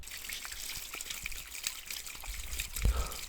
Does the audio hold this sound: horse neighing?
no